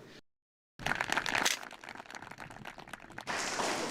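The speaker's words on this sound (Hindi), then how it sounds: "आइए सचिन त्यागी, जोरदार तालियां के लिए बचा दीजिए।" Crowd at a farmers' quiz event applauding a prize winner, a brief silence giving way to loud, dense, crackling clapping that dips slightly, then swells again toward the end.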